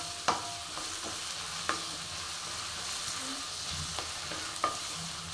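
Misal ingredients roasting in a pan give a steady close sizzle, with a few sharp spoon scrapes against the metal spaced a second or more apart.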